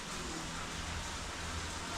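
Heavy rain pours down outdoors at a Pandi, Bulacan work site, a dense, unbroken hiss of water on surfaces, steady and fairly close, with no voices.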